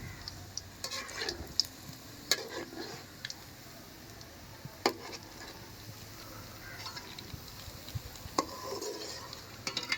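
Mutton meatballs frying in a pan for a village-style Tamil kola urundai curry: a low steady sizzle with scattered sharp clicks and utensil taps, fairly quiet, with no talking.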